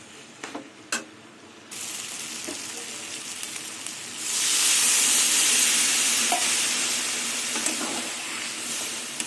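Water pours into a hot pan of soybean and vegetable curry with urad dal, and a steady loud hiss of steam and sizzle swells after a few soft clicks and holds to the end.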